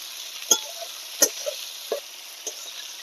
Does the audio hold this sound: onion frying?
yes